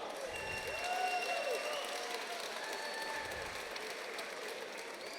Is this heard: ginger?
no